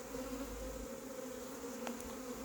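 A honey bee swarm buzzes around a cardboard box during a swarm capture, a steady close droning hum of many bees without talk.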